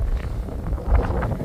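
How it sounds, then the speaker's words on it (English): Strong wind gusts outdoors at a camping spot, buffeting the microphone with a steady, low, rumbling roar that swells briefly. "But it's very windy"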